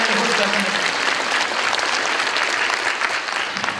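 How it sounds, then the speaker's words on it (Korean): A church congregation claps in thanks during a service, a broad, even wash of applause from many hands that fills the whole short stretch and tapers slightly toward the end. "가정을 오픈하시고 모임 장소를 제공하셨던 성도들에게 감사의 박수 드리겠습니다"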